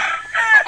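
Close, loud crowing from a young gamecock stag, a single brief call rising and breaking in the middle.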